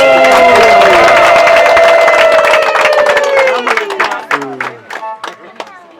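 At the wedding ceremony of Benimana and Bazizane, a loud, long ululation rises over a crowd clapping, then fades into scattered claps and voices.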